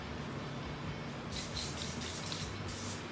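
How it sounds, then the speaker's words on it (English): Spray adhesive hisses from a can onto a car interior panel with batting, coming in several short bursts after a quiet moment, close and fairly soft. "Spray our panel. You just want a light coat on it because you're just gluing it to the batting on this panel."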